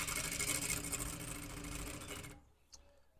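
A sewing machine runs steadily while sewing a stay stitch on a black safari shirt, a close, busy whir that stops abruptly near the end and leaves near silence with a small tap.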